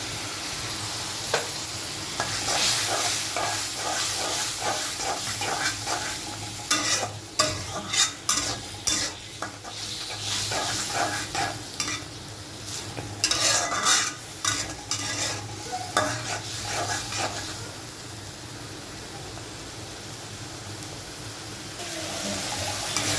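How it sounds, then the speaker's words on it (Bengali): Coriander powder and chili powder being stirred and fried for a beef curry with small potatoes, a steady sizzle broken by bursts of scraping, clattering stirring strokes that come in a loose rhythm, with no talking. "আমার মশলাটা কষানো শেষ"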